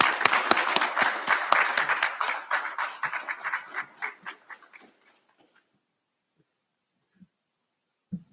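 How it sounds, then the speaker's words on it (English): An audience at a recognition ceremony gives a round of applause, dense clapping that thins into scattered claps and stops around five seconds, followed by silence with a couple of faint knocks. "I ask that you give a round of applause to Dr. Sams, to Dr. Anker for their illuminating and inspiring words"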